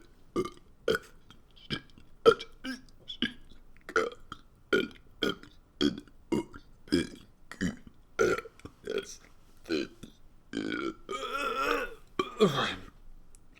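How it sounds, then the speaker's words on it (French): A person burps repeatedly in a steady string of short, loud belches, one after another as if working through the alphabet, with a longer, rougher burp near the end. "Tu peux roter en faisant l'alphabet."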